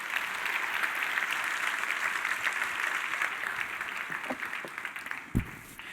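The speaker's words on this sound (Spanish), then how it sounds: "Dele un aplauso al Señor." Church congregation applauding steadily for about six seconds in a worship service, a dense even clatter of many hands that eases slightly near the end.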